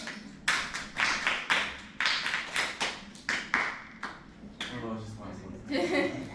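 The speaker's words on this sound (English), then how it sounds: "And now let's clap this one." Sharp hand claps in a steady rhythmic pattern, bursts of several claps with short pauses, fairly close, with faint voices and room noise underneath, during a music teacher training session.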